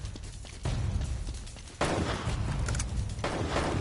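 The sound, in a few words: gunfire in video game Uncharted: Drake's Fortune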